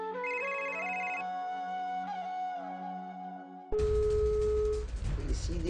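A phone ringtone repeats a melodic tone pattern while the call goes unanswered, followed by a sharp switch to a steady single tone over noisy background.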